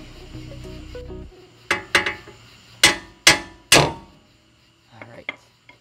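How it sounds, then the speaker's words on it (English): Hammer blows knocking a tie rod out of a Jeep YJ steering linkage: five loud, sharp metallic strikes in an uneven rhythm, followed by two lighter taps, close and with no talk. "You just want to make sure you don't damage anything while you're beating on it with a hammer"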